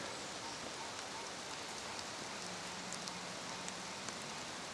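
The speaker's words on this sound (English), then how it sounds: "definitely see the rain coming down." Steady, dense patter of rain falling outdoors, a constant broadband hiss with faint drops spattering throughout, no voices.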